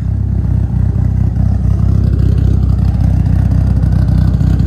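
A 2003 Mitsubishi Evo 8 engine runs close by, a loud, steady, low rumbling idle with slight rhythmic pulsing and mild rises in revs throughout.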